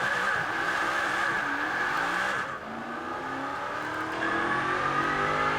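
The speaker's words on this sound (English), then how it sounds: "And that noise of the twin superchargers from the interior." A loud, steady engine roar with a high twin-supercharger whine, heard from inside a Zenvo TSR-S at speed in Forza Horizon 4, continuous with a slight dip midway.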